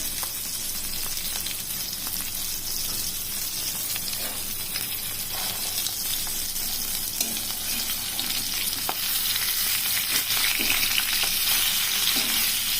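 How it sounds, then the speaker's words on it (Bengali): Loud, continuous sizzling of rohu fish pieces frying in hot oil, with crackles and occasional stirring or scraping sounds. "দুটো দুটো করে মাছ ভেজে নিচ্ছি"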